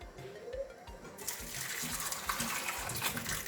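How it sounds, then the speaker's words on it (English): Running tap water streams steadily over parrot eggshells being rinsed, starting faintly with small handling clunks and then gushing loudly and continuously from about a second in, with no talking. "So I'm gonna rinse them with some water."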